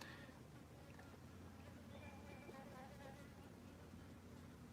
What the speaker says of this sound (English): And there's still bees there. Ooh, getting them flying around me right now.